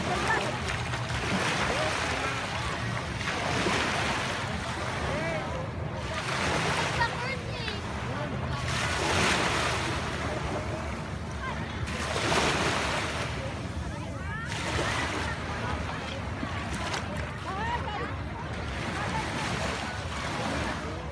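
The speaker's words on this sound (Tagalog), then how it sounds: "Tunog ng tubig." Ocean waves surge and wash in a slow, repeating rhythm on a Boracay beach at sunset, with wind noise throughout and voices faintly heard underneath.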